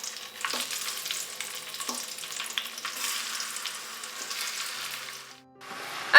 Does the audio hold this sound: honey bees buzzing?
no